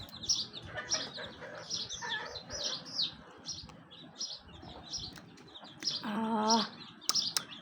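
Busy birdsong from pigeons in a nest, with chirps and calls throughout, close and lively, with a soft cooing burst partway through and some fluttering.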